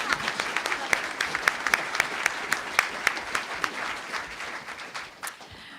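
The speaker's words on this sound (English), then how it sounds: "let's give it applause again" The audience at a town council's inaugural meeting breaks into applause. Many hands clap in a steady, fairly close burst that thins and fades toward the end.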